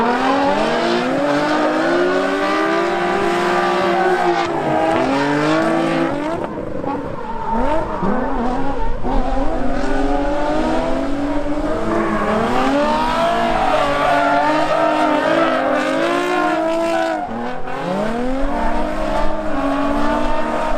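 A Nissan 240 drift car on Zeknova tires at about 25 psi, its engine revving hard and wavering continuously with tire squeal as it slides, loud and close for the whole stretch.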